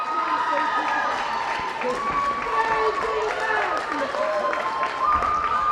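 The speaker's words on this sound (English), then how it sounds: "wow, the Baldwin crowd erupts here" Crowd at a Baldwin high school hockey game erupts into loud sustained cheering and clapping, a dense roar filling the rink with a commentator talking over it.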